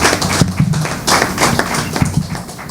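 Audience clapping at a formal launch event, scattered uneven hand claps of moderate loudness forming patchy applause that continues throughout.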